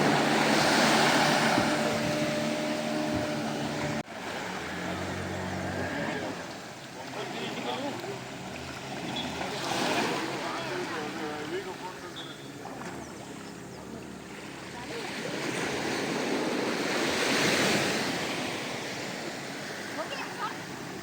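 Surf and waves wash steadily at Butterfly Beach in Goa, a deep-water cove reached by boat, with broad rushing swells rising and falling across the whole stretch and voices faintly underneath.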